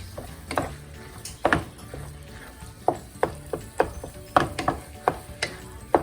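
Paneer goes into a pan and is stirred with masala, producing a series of sharp scraping clacks and knocks from the spoon against the pan, fairly close and irregular.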